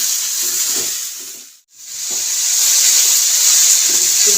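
Mixed vegetables and chopped tomatoes frying in a pan over a high flame for a street-style paneer kathi roll, giving a steady loud sizzle and steam hiss that briefly drops out and then returns, with no talking.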